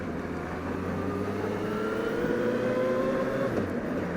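A 2009 Suzuki GSF 1250 K9 motorcycle ridden on the road, its engine humming steadily and rising in pitch as it revs, a continuous moderate drone under wind noise, with no talking.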